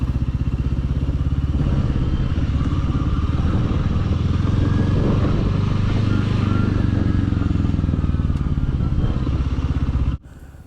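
A motorcycle rides along a road in the Garhwal mountains. The engine drones loud and steady throughout, and the sound drops off abruptly at the end.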